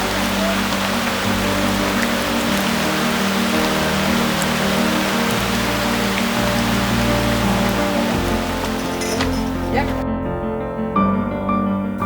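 Steady rain falls on a patchouli farm in Indonesia, a dense, continuous hiss of drops on surfaces at close range, with low tonal hum or music running underneath and a brief quieter break near the end.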